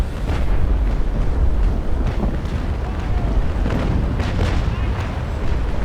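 A ship exploding in the Naval Action game, heavy booming blasts and rumble over a dense, loud low roar, with irregular thuds.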